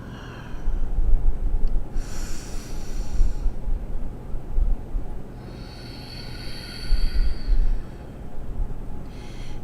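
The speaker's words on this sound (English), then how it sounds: "use muscular action in the back of your throat to inhale, open up, and then exhale, squeeze, press the breath through" Ujjayi-style throat breathing during a yoga class for anxiety: slow, close, hissing inhales and exhales drawn through a constricted throat, several full breath cycles in steady rhythm with no talk.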